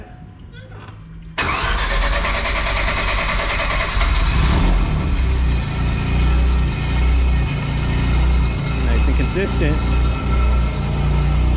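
A home-built six-rotor rotary engine cranks and catches with a sudden loud roar, then settles into a rough, throbbing idle, with a voice speaking briefly over it.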